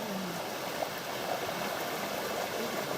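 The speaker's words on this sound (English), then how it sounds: "At least the water is flowing." Creek water running over rocks and boulders in Macquarie Pass National Park, a soft, even babble and trickle that continues steadily without voices.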